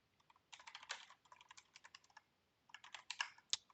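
Typing on a computer keyboard while coding, close and quiet: bursts of quick key clicks, a short pause, then another run of keystrokes ending in a sharper tap.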